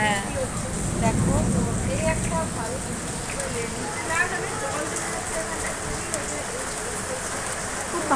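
Heavy rain falls steadily in a hot-weather downpour, a continuous close wash of drops striking surfaces, with a few louder spatters and the odd faint knock.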